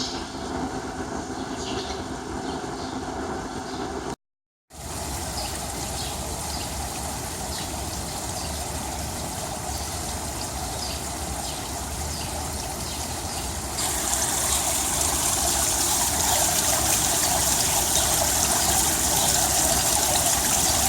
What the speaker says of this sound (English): Bubbling water.